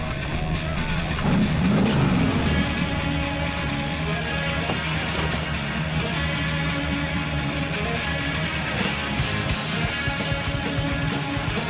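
A car engine revving in the video game Brutal Legend, a continuous buzzy motor drone with a brief rising rev near the start, mixed under a dense game soundtrack at moderate level.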